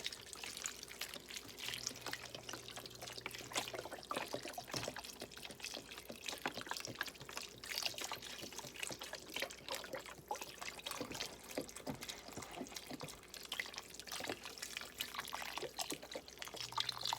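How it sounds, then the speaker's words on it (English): Chicken broth poured from a 32-ounce carton over potatoes in a pot, a steady liquid trickle and splash running continuously at close range with no talking. "Just pour it over your potatoes"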